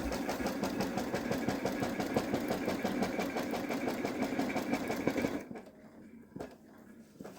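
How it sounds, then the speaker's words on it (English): A Babylock Solaris embroidery machine stitches an appliqué placement line on a soft stabilizer, a steady rapid mechanical rattle with even rhythmic pulses that stops abruptly near the end, leaving quiet room tone. "Now that we've got that placement line stitched, I can lay down the next fabric."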